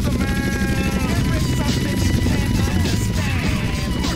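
Helicopter in GTA San Andreas, heard as a loud, steady rotor-and-engine drone with wavering tonal whines and some clattering over it, running unbroken throughout.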